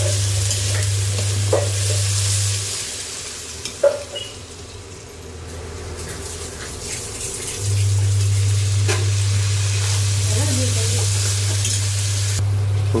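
Egg and dried fish frying in a pan, with a steady sizzle and scraping stirring strokes; a low constant hum drops out for a few seconds midway, and there are no voices.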